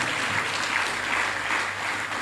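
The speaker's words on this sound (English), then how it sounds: "Can we give Ares Holdings a round of applause" Sustained audience applause at a business forum, a dense steady wash of clapping hands with no pauses, continuing at even loudness throughout.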